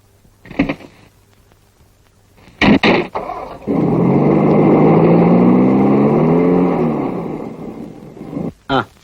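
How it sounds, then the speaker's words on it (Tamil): A car starts up and drives off, its engine swelling into a loud, sustained rumble that lasts several seconds before fading. Brief thumps and sounds of movement come before and after it. "டிரைவர், வண்டி எடு."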